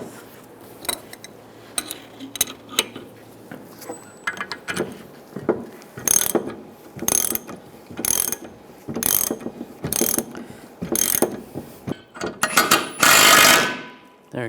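A ratchet tightens a rod to press a front lower rearward control arm bushing on a 1998-2010 Volkswagen Beetle, a series of sharp, fairly close clicking strokes at an uneven pace that grow louder toward the end.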